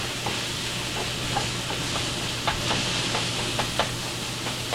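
Sausage and onions frying in a pan give a steady close sizzle and hiss, with scattered soft clicks and stirring scrapes throughout and no voices.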